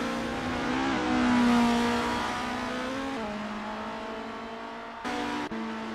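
Formula race car engines in an online Assetto Corsa championship at Mont Tremblant scream at high revs, with rising and falling pitch through gear changes, loud and close, with no voices.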